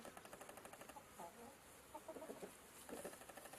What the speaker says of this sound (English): this does have some clucking audio on it